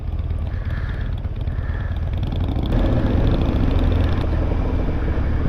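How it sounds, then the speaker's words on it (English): A Harley-Davidson motorcycle engine drones steadily during a ride on a sunny Sunday, a loud, continuous low rumble with a slight rise in intensity midway and no talking. "In all fairness, that Harley does sound rather nice."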